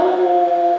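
A human voice imitates a dog's howl: a single steady, sustained tone held loud and close, with no other sound around it.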